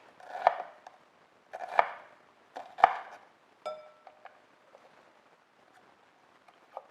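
Knife chopping potatoes into small even slices for a mayo-free Moroccan potato salad, a few separate crisp cuts on a board spaced about a second apart, then quieter light taps trailing off, close by and with no talk.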